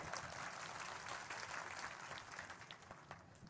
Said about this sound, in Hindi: आनंद आया तो ताली तो बजा दो भाई